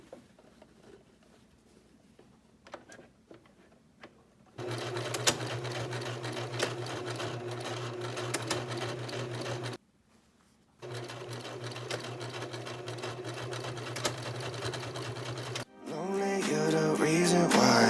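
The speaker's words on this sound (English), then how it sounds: "And I'm sewing my straps on about 3 inches away from the edge." Sewing machine stitching straps onto the inside of a ruched crop top, about three inches from the edge, in several steady runs of close, loud mechanical whirring, separated by short pauses.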